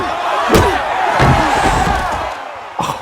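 A boxing crowd roars throughout a bout in the film Million Dollar Baby, a steady loud cheer with sharp punch-like thuds near the start and end.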